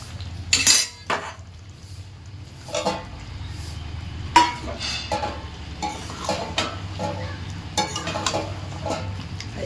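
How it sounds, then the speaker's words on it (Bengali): Potatoes go into a pan of cooked-down spices and are stirred, bringing a steady low sizzle under repeated metal spoon scrapes and clinks against the pan, close and unaccompanied by speech. "এবার আলুগুলো দিয়ে দিই"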